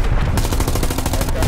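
Rapid automatic gunfire in the World War II shooter Hell Let Loose hammers out as a loud, evenly spaced burst of close shots, one after another, with no talking.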